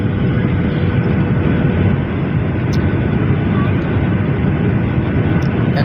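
Inside the cabin of a passenger airliner descending to land in Bangladesh on a flight from Singapore, a loud, steady engine drone and airflow roar fills the whole stretch without a break.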